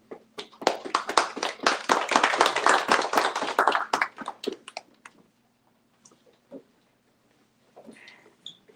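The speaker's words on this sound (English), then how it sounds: "Please give them a round of applause." Audience applause for panelists at an evening book talk: a dense, loud burst of clapping that builds quickly, holds for about four seconds, then thins to a few scattered claps and small noises.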